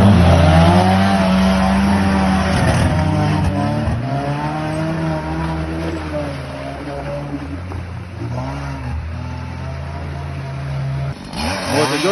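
A car drives off through deep mud during an off-road evacuation, its engine loud and near, labouring and revving in rising and falling pitch throughout.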